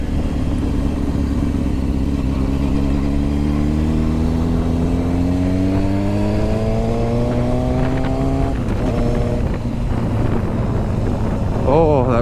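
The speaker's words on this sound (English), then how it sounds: "Oh, that wind is still really warm" Warm wind buffets a helmet-mounted microphone while riding in heat, a constant roaring rush mixed with a rising engine drone that climbs in pitch, then drops and climbs again.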